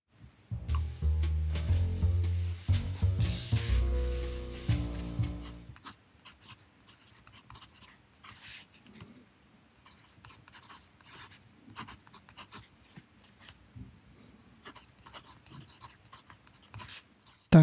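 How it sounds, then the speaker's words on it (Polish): A TWSBI Diamond 580 AL fountain pen nib scratches and glides across paper in close, irregular strokes: a louder burst of writing first, then softer, intermittent scribbles. "jak stalówka szumi na papierze"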